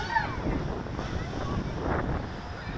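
Wind gusts buffet the microphone outdoors while a drone flies nearby, a steady broadband rumble and rush that swells and eases over a few seconds with no clear motor whine standing out.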